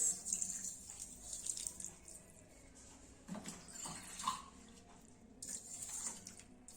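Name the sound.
water poured into a pan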